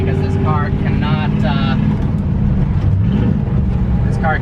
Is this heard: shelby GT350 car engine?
yes